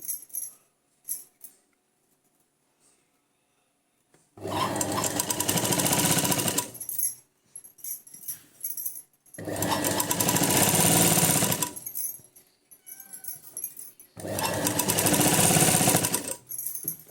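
Sewing machine stitching the shoulder seam that joins a sleeve piece to a garment, running in three loud sustained bursts of about two seconds each, separated by quieter pauses with faint handling noises.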